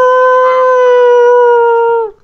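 A steady, pure wailing tone from a game siren in GTA 5 or Fortnite, loud and close, holding one pitch for about two seconds before cutting off abruptly.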